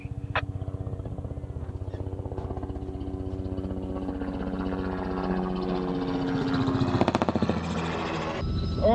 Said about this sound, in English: We're going to put the chopper down beside them.